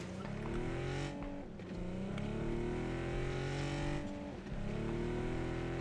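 A car is driven in a video game, its engine droning loudly and continuously while revving and dropping in pitch twice as if shifting gears. There is no speech.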